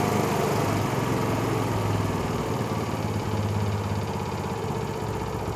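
A Honda CD70 motorcycle engine idling close by after carburetor adjustment, a steady, even low rumble that holds a constant pace, with no voices.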